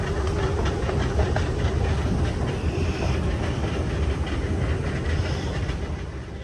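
A Dubai metro train rumbles along steadily with a low roar and faint rhythmic clatter, continuous and fairly loud, with no one speaking.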